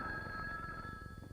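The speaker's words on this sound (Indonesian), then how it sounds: "Tuh nih, telepon. Angkat, Gi." An old telephone bell rings indoors in a steady, sustained metallic trill, faint and continuous for the whole short moment, with no voices.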